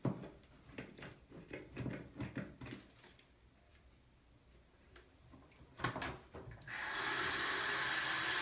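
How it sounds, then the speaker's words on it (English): Hot water from a faucet in a hair-styling setting gushes on abruptly after a stretch of soft knocks and clatter, then runs loud and steady to the end. "Sometimes if your spray is stuck, you can heat up your hot water in the faucet."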